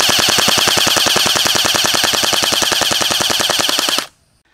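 Barra 400E full-auto BB gun firing one long, rapid, even burst of closely spaced shots, loud and close, lasting about four seconds before stopping abruptly.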